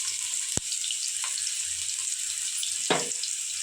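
Green chillies fry in hot oil for homemade Manchurian, a steady close hiss of sizzling broken by a sharp tap near the start and a brief louder splutter toward the end; no one speaks.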